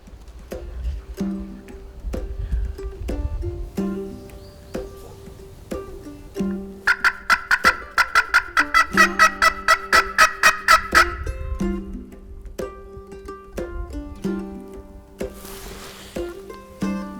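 A wild turkey gobbles repeatedly in the Virginia hills, rapid rattling calls at moderate distance, with a burst of fast clucking in the middle and outdoor rustling throughout.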